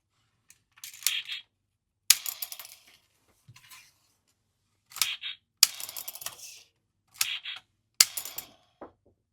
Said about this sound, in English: Let's go ahead and launch all the missiles and then transform him.